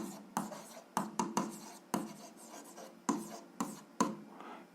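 Pen scratching on paper during an algebra exercise, a series of short quick strokes in bursts with brief pauses, close and fairly quiet.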